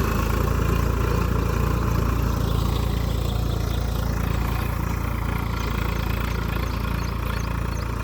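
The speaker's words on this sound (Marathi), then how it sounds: "आता ट्रॅक्टर आलं आपल्याला सारण्या फाडायची आहे वावराच्या आहे" A tractor works a farm field cutting furrows, its engine giving a loud, steady, unbroken drone close by with no talk.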